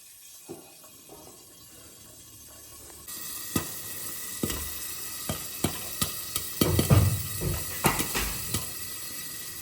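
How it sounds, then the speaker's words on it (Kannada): Popcorn popping in a pan on the stove: a string of sharp, separate pops that speed up and crowd together over a steady sizzle, close and fairly loud, with no talking. "ಪಾಪ್ಕಾರ್ನ್ ಮಾಡಿಕೊಡ್ತಾ ಇದ್ದೀನಿ"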